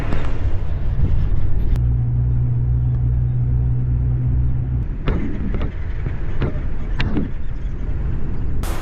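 A city bus travelling between Madhavaram and Periyapalayam rumbles along the road, its engine a steady low drone with a sustained hum midway and a few clunks and rattles from the cabin later on.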